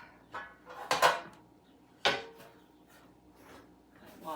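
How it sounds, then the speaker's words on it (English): Metal cake pan picked up and handled in a kitchen, a few sharp clanks and scrapes close by, separated by quiet gaps. "Then, we'll grab our cake pan."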